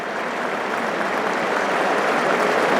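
Cricket spectators at the England v India fifth Test applaud fast bowler Gus Atkinson off the field, a steady, dense wash of clapping from a large crowd that holds evenly and builds slightly toward the end.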